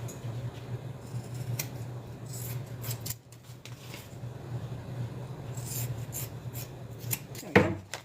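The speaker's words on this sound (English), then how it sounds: "I'm just going to trim the little excess back here off." Scissors trim excess fabric off a sewn wristlet, close and clear: repeated crisp snips and rasping cuts spread through the clip, ending in a louder final cut, with a steady low hum underneath.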